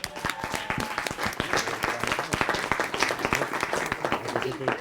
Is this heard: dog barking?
no